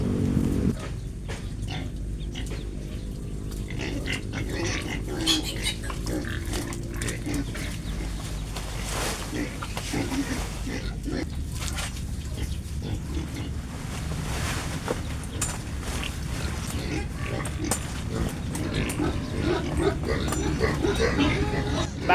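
Pet pigs being brought madre de agua fodder grunt and snuffle continuously at close range, with scattered louder squeals and oinks over rustling and wind-like noise throughout.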